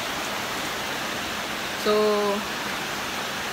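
Steady heavy rain falling outdoors during a very wet season, a constant broadband hiss that fills the whole clip, with one brief spoken word and a short tonal sound cutting in near the middle.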